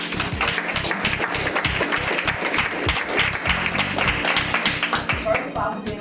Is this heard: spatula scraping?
no